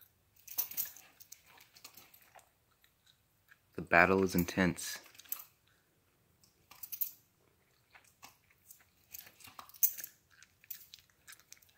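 A dog bites and chews at a beetle in a short burst of crunchy, snapping sound near the middle, with scattered small clicks and a person talking excitedly throughout.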